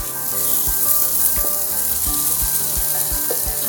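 Spice mix of Kashmiri chilli powder, salt and a little sugar sizzling in hot oil in a pan for a Bengali fish curry, a loud continuous fry with crackles and sharp pops scattered throughout.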